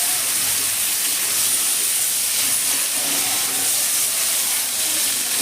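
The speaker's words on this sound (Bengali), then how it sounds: "মাছটা আমি বেশিক্ষণ ভাজবো না, জাস্ট এইভাবে 4-5 মিনিট মতো ভেজে নিচ্ছি।" Pakal fish (eel) fries in hot oil in a pan; a continuous, even sizzling hiss holds steady and fairly loud throughout, with no voices.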